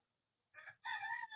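A chicken gives two short, close calls, a brief one and then a longer, drawn-out cluck, in a quiet setting.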